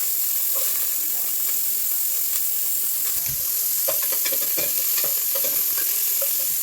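Chopped green chillies and ingredients sizzle and fry in a pan for nookal (kohlrabi) sambar while a spoon scrapes and stirs, a steady hiss broken by irregular clinks.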